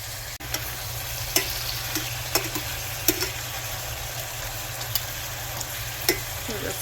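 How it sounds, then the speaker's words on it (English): Chicken pieces for arroz con pollo sizzle steadily in hot oil in a home kitchen while being flipped, with a continuous frying hiss broken by several sharp clicks and scrapes of the turning utensil. "We're just flipping those pieces over, letting those cook down a little bit on this side."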